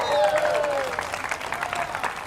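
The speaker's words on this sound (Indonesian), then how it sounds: "Berikan sorak-sorai buat Tuhan." An audience cheers, claps and lets out high whoops at a church service, a sustained crowd roar that stays loud and fairly close throughout.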